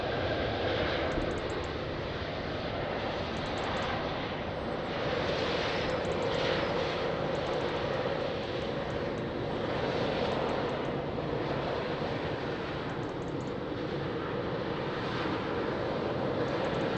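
An airliner's jet engines roar steadily at Lisbon Airport, a continuous broad rumble and whine that stays fairly constant throughout, heard from a distance with no talk.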